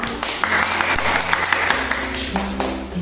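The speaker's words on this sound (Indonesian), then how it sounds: "Beri tepuk tangan untuk Aisyah." A small group of students claps steadily in a classroom, the applause close and fairly loud.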